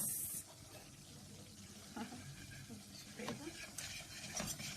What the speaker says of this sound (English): So I'm gonna do this fast stirring